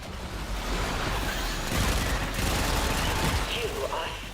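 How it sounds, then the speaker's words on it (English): Dense, continuous gunfire from the Warframe video game, a loud sustained crackle of rapid shots with no clear gaps between them. "Gunfire."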